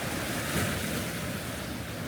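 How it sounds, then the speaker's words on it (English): Ocean waves washing in over tide pools as the high tide returns on the shore, a steady broad rushing wash mixed with gusty wind noise, no voices. "Yeah, you can see the water coming back in. High tide's coming."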